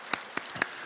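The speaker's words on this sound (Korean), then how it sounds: "먼저 힘차게 박수 쳐드리시고" A church congregation claps during a Sunday worship service, four separate bursts of hand claps spaced evenly apart, each one short and sharp, with no talking between them.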